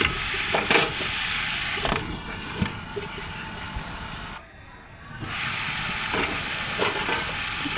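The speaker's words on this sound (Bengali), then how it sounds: "এটাও আলুর সঙ্গে একটু কষিয়ে নিচ্ছি।" Pointed gourd and potato frying in a pan, a close, hissing sizzle with stirring scrapes that briefly drops away midway before resuming, with a voice speaking faintly at times.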